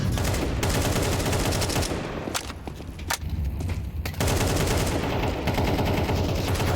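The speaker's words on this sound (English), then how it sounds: "AKs tear through these armorless players." Rapid automatic AK rifle fire in a Counter-Strike match at the StarLadder Budapest Major 2025, loud sustained bursts with a brief lull in the middle before the fire resumes.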